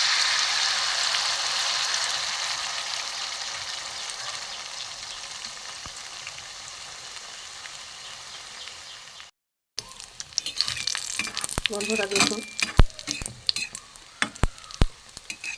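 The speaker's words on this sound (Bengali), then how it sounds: "বন্ধুরা, কড়াই তেল দিয়ে দিয়েছি। এবার আমি এই গোলা যে করে রেখেছি এতে আমি দিয়ে দেবো।" Pitha batter poured into hot oil in a wok gives a steady bright sizzle at first, then fades and breaks into scattered crackles and pops over low heat, with a brief spoken line over it.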